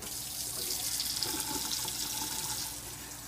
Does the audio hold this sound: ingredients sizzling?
no